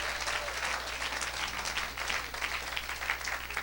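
A church or revival audience breaks into steady applause, dense clapping at a constant loud level throughout, with faint cheering mixed in.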